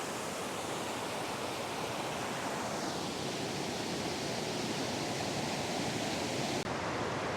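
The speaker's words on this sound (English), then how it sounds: "there's water, like a little waterfall right there" A steady, unbroken rush of falling water at Savage Falls, close and loud, like a small cascade pouring constantly with no voices.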